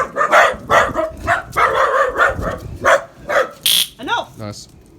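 Several small dogs bark excitedly in rapid overlapping yaps close by, with a person talking among them and a brief higher whining yip near the end.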